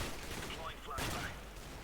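A quick burst of rapid gunfire in Overwatch, sharp cracks over a dense, noisy background with faint talk.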